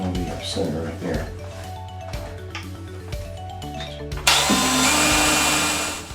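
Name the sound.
drilling porcelain tile with diamond bit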